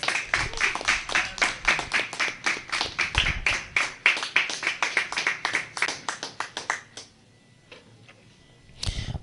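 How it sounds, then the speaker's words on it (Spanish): Rhythmic unison clapping from a standing congregation at a Torah service, sharp claps in a steady beat for about seven seconds, then stopping abruptly into near silence before a brief rise of sound. "Póngase de pie, de un aplauso al Eterno."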